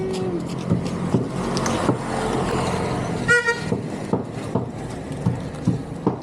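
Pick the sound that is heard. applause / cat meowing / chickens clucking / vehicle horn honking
vehicle horn honking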